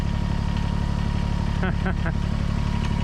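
A Kubota BX compact tractor engine idles with a steady, low rumbling throb close by, constant and unchanging, while a voice briefly speaks over it midway.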